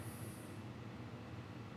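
A faint, distant rumble with a low rolling drone and a brief high whine at the start, like a train passing far off.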